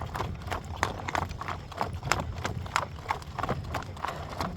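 Horses out on a morning walk, hooves clip-clopping in an uneven steady rhythm at close range, fairly soft, with no talk.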